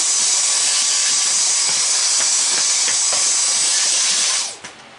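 Compressed air from a shop compressor blasting across a resin model kit part, a loud steady hiss lasting several seconds before cutting off abruptly near the end, with faint clicks underneath.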